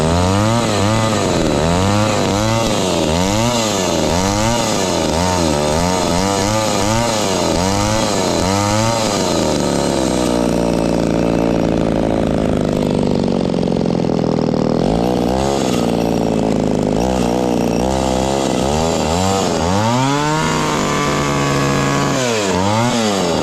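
Echo 280e chainsaw engine running on choke, loud and close, revving in repeated surges at first, then settling into a rougher uneven idle before climbing again near the end.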